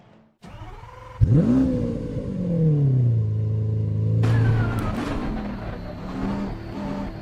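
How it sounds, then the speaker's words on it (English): A 2018 Bentley Continental GT3 Evo race car runs a track lap at Spa-Francorchamps in a GT3 racing game. The engine fires up, then revs hard with rising and falling pitch, holding a loud, steady drone that shifts into higher whine later. "We have a track lap on the Bentley Continental GT3 Evo, just for you around this track."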